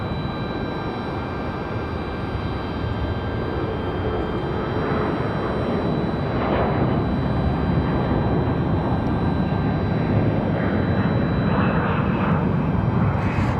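Delta CRJ regional jet departing Raleigh-Durham airport, a steady broadband jet roar that grows louder over the clip as the aircraft climbs away, heard alone without talk.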